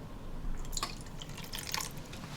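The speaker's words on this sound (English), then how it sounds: "Quarter cup of apple cider vinegar." Apple cider vinegar poured into a potato salad mixture, a quarter cup going in as a short, quiet liquid splash with a couple of dripping bursts, close and on its own.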